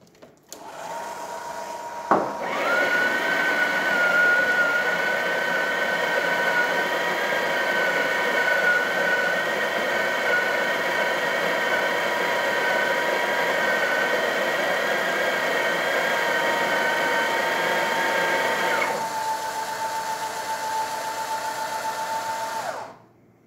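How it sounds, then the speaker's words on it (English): A Breville Oracle Touch espresso machine, fitted with a new gasket, pulls an espresso shot with a steady loud pump hum and whine for about sixteen seconds after a click, then drops to a fainter hum before stopping. "let's go ahead and test it. We can espresso shot on it."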